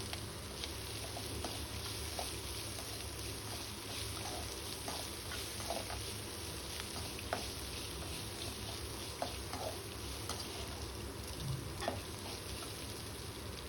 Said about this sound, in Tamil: வதக்குன்னு வெங்காயம் சேர்த்துக்கலாம். நல்லா வதக்கலாம்.